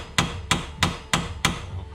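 Five firm, evenly spaced metallic taps from a small hammer striking a nut on a Corvette power steering rack stud, close up and alone.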